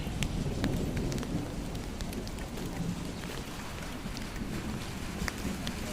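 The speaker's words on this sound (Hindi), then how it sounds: "और बारिश शुरू हो गई" Steady rain falls and patters on surfaces nearby near Chitkul village, India, a constant wash of drops with occasional sharper taps, no voices.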